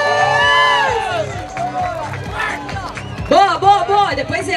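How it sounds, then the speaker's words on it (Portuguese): Crowd cheering and clapping at a running race podium ceremony, a lively burst of applause with whoops mixed with an announcer's voice and nearby chatter. "Palmas! Palmas!"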